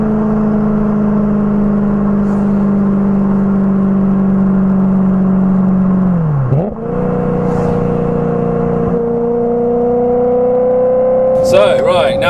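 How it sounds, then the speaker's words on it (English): A BMW E90 M3 V8 accelerates along a back road, heard from inside as a loud steady drone that rises in pitch, drops sharply at a gear change, then climbs again; people talk over it. "And that V8, whoa!"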